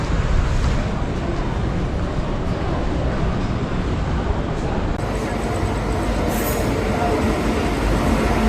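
The Nagercoil Express, heading toward Kanyakumari, fills the space with a steady, loud rumble of wheels and carriage noise, an unbroken drone from start to finish.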